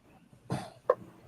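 Two short coughs from one person, close and fairly quiet, the first a rough burst and the second a sharper hack a moment later, with nothing else around them.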